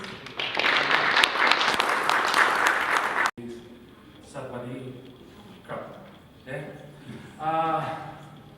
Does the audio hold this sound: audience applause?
yes